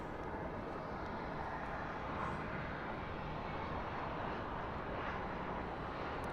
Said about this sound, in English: But that is a 747